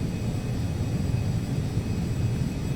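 A Carenado 525A Citation CJ2 business jet taxiing in the Prepar3D simulator, its engines giving a steady low rumble with a faint high whine, constant and unbroken.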